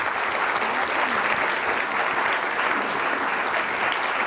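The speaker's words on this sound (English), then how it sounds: "Let's give them a round of applause." A conference audience gives a sustained round of applause for a Kellogg student team, steady and dense clapping from a large crowd that holds level throughout without talk.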